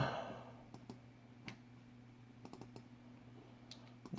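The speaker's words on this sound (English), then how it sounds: "Let me double click on here." Computer mouse double-clicks in a quiet room: a few sharp, faint clicks scattered over a steady low electrical hum, with no talking.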